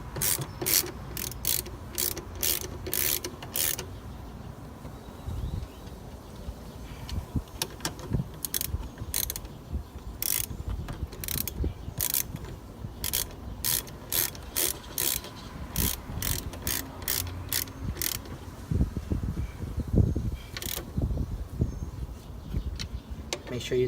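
Socket ratchet tightening brake caliper bolts on a Can-Am Outlander or Renegade ATV, fast rhythmic clicking in repeated bursts, close and crisp, with low handling noises between strokes.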